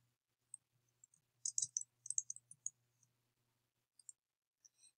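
Quiet computer mouse clicks while a document is signed on screen: a few isolated clicks, then clustered rapid clicking, then sparse single clicks, close and faint against near silence.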